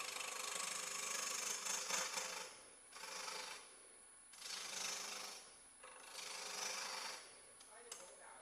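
A wood lathe spins a cabriole leg while a bowl gouge cuts through mostly air, producing faint bursts of rasping, hissing shavings that rise and fall in four or five passes over a steady motor hum.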